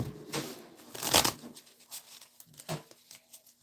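Playing cards for a Strat-O-Matic baseball tabletop game are shuffled close by, a burst of riffling flutter at the start followed by softer, scattered card taps and slides.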